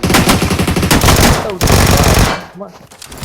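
Rapid bursts of Vector submachine gun fire in a video game, loud and continuous for about two seconds before cutting off, with faint game sounds trailing after.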